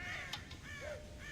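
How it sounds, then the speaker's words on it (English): Crows cawing around a farm silo in the Red Dead Redemption video game, a few harsh caws close by and fairly faint, with no talk. "God damn crows!"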